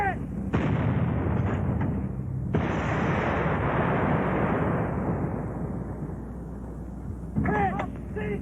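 Artillery fire in Guns of War 2: a loud, sharp blast that opens into a long rolling rumble and a second heavy boom, decaying slowly, before a voice breaks in at the end.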